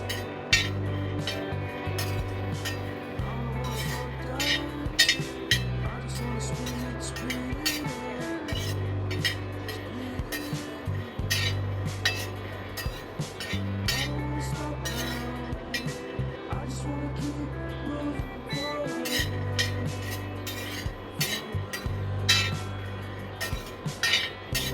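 Peanuts being dry-roasted on low heat in a pan for homemade peanut butter, with steady clinks and scrapes of nuts and a stirring utensil against the metal, close and continuous, over a low background hum.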